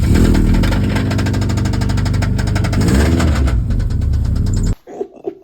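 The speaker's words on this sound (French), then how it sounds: "je dirais que le bruit vient du moteur sur l'intérieur, voire du bas moteur" A loud, steady car engine runs on a booster with a rough, rhythmic knocking from the lower engine throughout, then cuts off abruptly near the end, leaving a few faint clicks.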